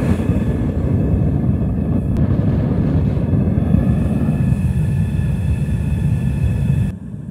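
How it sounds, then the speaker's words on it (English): A furnace burner roars with a loud, steady, unbroken rush while a crucible of aluminum pull tabs melts, cutting off sharply at the very end. "let's load the crucible in the furnace and start melting down these pull tabs"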